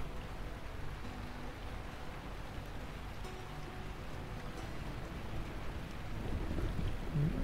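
Steady rain and low thunder rumble in the video game Lightyear Frontier, a continuous wash of rainfall that swells slightly louder toward the end, with no talking.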